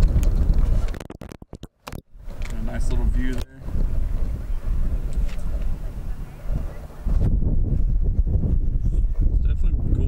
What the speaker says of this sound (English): Wind is super windy. It's breezy.